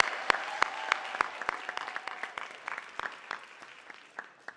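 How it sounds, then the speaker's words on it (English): Audience applause at a human rights awards celebration, a loose scatter of sharp individual claps rising to a moderately dense patter, then thinning out, heard from within the room. "Can we give them a round of applause, too?"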